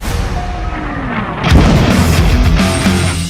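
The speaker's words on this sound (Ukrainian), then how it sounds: "Ну, ми будемо робити постріл" A tank cannon fires a single heavy boom about halfway through, a deep blast that rolls on as a long rumbling echo over a steady engine drone.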